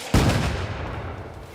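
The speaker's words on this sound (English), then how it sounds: "Since when did we add fireworks to the show?" Fireworks going off in a cartoon show: one sudden, loud, close blast that rolls into a long, rumbling decay.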